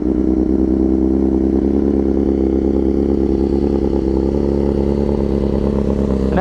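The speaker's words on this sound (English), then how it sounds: "and that's a full Akrapovic titanium headers with the SE Project slip-on. It sounds really good." A 2023 BMW S1000RR with full Akrapovic titanium headers and an SE Project slip-on runs at a steady, loud, close idle, its deep rumble constant throughout with a slight rattle.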